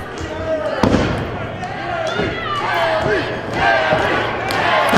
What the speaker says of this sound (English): The crowd heavily behind Billy Lee here, you can hear them chanting.